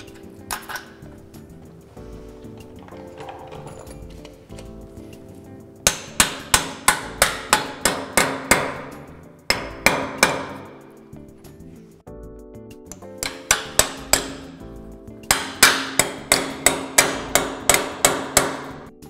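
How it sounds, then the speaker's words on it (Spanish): A hammer drives wall plugs into a damp masonry wall to fix metal brackets for plasterboard insulation, sounding in loud, evenly spaced bursts of ringing blows separated by quieter pauses. "Las escuadras las vamos a colocar con estos tacos que te mostré antes."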